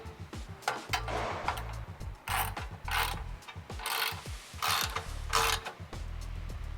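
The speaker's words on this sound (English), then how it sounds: "Now I'm going to grab my ratchet, my 14mm socket, my torque wrench, and my TP55 bit." Repeated ratcheting bursts from a ratchet fitted with a 14mm socket tightening bolts while Rivian R1T running boards are installed, with quick clicking pawl runs in several rhythmic strokes close to the listener and short pauses between them.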